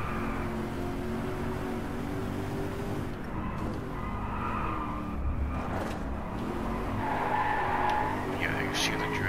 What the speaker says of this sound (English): Yeah, you see the drifts.